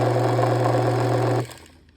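A Triton planer with a failing motor labours with a loud, steady low hum and rough buzz for about a second and a half, then cuts off abruptly and winds down into near silence.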